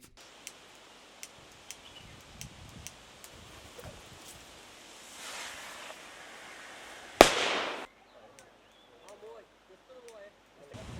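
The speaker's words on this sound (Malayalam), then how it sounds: "സംഘം പടക്കം പൊട്ടിച്ചും ശബ്ദമുണ്ടാക്കിയും കാട് കയറ്റി" Sharp cracks of firecrackers pop repeatedly at a distance, set off to drive wild elephants back into the forest in Munnar, Kerala, then one loud close burst with a crackling tail, followed by quieter rustling and faint voices.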